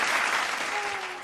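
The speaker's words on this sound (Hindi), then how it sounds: "जोरदार तालियां" A dance-show audience breaks into loud, dense applause, a sustained wash of clapping that tapers slightly toward the end, with a brief tonal note underneath.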